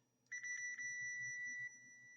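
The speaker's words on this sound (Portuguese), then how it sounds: "Vocês devem estar ouvindo um bip aí, né?" A continuous electronic beep from a multimeter continuity test sounds for about a second and a half as the two probes touch, then cuts off, with faint low background noise underneath.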